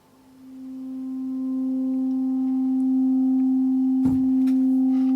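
A higher-pitched sampled chord from a Korg Volca Modular synth, a sustained tone with a few steady, resonant pitched layers, swells in softly and holds, with a brief clicky burst near the end.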